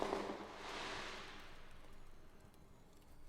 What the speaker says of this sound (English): Very loud fireworks.